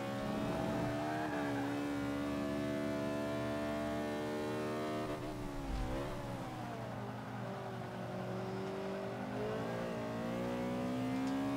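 A 2007 Honda Civic FWD in Forza 5 held at full throttle, its engine droning loud and steady with a sustained high rev, dipping and climbing slightly as it carries through a turn.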